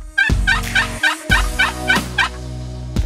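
Wild turkey gobbling repeatedly in a quick series of loud rattling calls, answering box calls during a spring hunt in Oklahoma and Kansas, with no talk over it.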